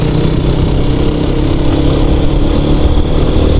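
A group of motorcycles rides at night on the hill road to Khagrachhari, a continuous loud engine drone and road rumble close by, steady throughout with no voices.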